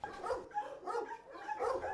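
A dog barks and whimpers in short yelping bursts, fairly faint and repeated in a quick uneven rhythm, with no talking.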